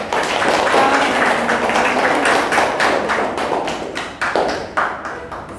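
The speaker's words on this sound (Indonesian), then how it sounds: "Berikan aplaus untuk teman kalian." Classmates applaud after a group presentation in a physics classroom: a burst of close hand clapping from a small group, dense at first and thinning into scattered, uneven claps that fade toward the end.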